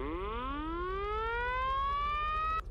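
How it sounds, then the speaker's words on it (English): A 1940 police car siren in the game Unturned, played from a WW2 vehicle mod, winds steadily upward in pitch for over two seconds as one loud rising wail, then cuts off abruptly. "it has the cutest like horn noise or siren noise ever."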